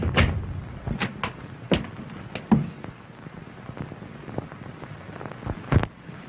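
Gunshots ring out in a 1931 pre-code comedy film: about seven sharp, loud bangs fired at irregular intervals over a low, hissy old soundtrack.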